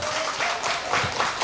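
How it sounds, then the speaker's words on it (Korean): A crowd at a nighttime outdoor pumba performance in Jeongseon claps steadily for the drum-playing entertainer, a dense and continuous round of applause with a faint voice behind it. "북을 한번 치고 물건을 살 분들 박수 한번 줘봐요"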